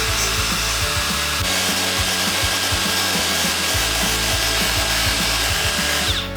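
A power tool grinds paint off metal before welding, a loud continuous whirring rasp held steady throughout with a rhythmic low pulsing underneath, close up and without speech.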